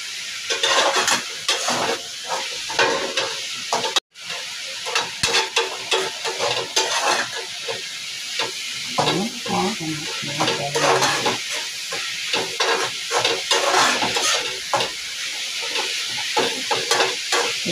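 Drumstick leaves and egg stir-frying in a pan: steady close sizzling and hissing with repeated scraping stirs throughout, one brief cutoff near the start.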